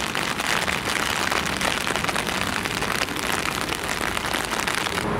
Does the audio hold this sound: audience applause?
no